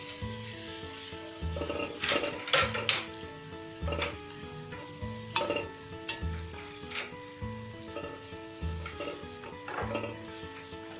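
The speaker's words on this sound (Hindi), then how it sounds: "फिर अदरक का पेस्ट डालेंगे और इसको थोड़ा सा मिला लेंगे" Ginger-garlic paste frying in a pot for spicy beef biryani, stirred with a utensil that scrapes and taps the metal in a steady rhythm over a constant close sizzle, with no voices.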